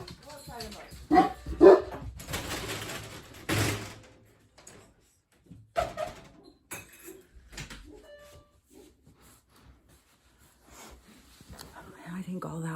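A female dog barks outdoors at a squirrel or cat, a few sharp barks in the first seconds alongside a door sliding and banging, then sparse fainter sounds and quiet stretches.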